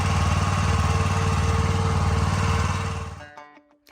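Tractor engine running steadily while a Massey Ferguson RB.4160V round baler bales wet oats in a field, a loud continuous drone that cuts off abruptly near the end.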